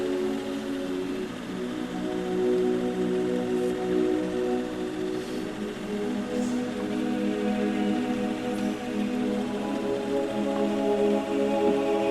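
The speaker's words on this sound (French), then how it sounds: "Il pleut quelques gouttes, mais j'ai l'impression qu'on est passé sous l'orage." Light rain patters softly and evenly on a sailboat, a steady gentle hiss with a few scattered drops standing out.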